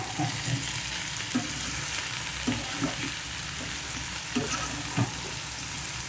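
Bitter gourd sizzles steadily in a pan, a continuous close frying hiss with occasional soft stirring clicks and no voices.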